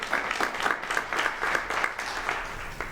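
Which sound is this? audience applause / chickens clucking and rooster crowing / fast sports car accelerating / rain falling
audience applause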